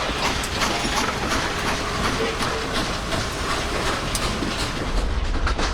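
A short passenger train passes a museum grade crossing, with a steady clattering rumble of wheels on rail joints that stays close and loud throughout.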